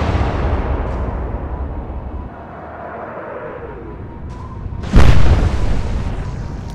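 Naval gun fire in the Atlantic Fleet warship game: a heavy rumbling background, then one sudden loud cannon boom about two thirds through that rolls away into a decaying rumble.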